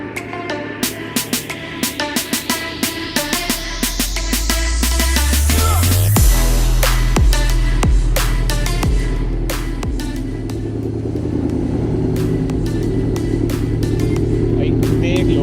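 A Stage 3 tuned Porsche Panamera with over 550 horsepower revs hard, its loud engine climbing in pitch to a roaring peak, then holding a deep throbbing rumble with sharp crackles, close by and very loud.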